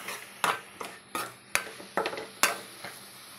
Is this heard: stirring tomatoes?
yes